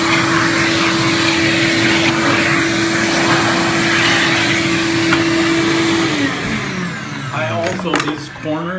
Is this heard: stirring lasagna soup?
no